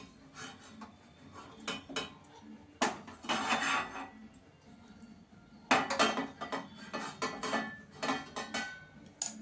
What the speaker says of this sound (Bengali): এই থালাটার মধ্যে দিয়ে দেবো।